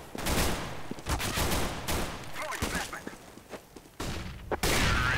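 Rapid bursts of gunfire ring out in a Counter-Strike: Global Offensive match, with sharp volleys and short pauses between sprays, while a voice talks underneath.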